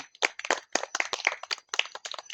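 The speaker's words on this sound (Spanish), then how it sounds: "nos despedimos con un aplauso para el doctor Marco Mendizábal" A small audience gives sparse, scattered claps for a lecturer, individual hand claps heard quite clearly and fairly faint, as if few people are clapping.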